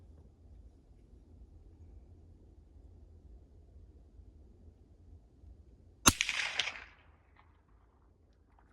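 A single sharp crack rings out from a 6.5 Creedmoor rifle firing a subsonic handloaded round at a range, followed by a short decaying echo after several seconds of quiet background hiss.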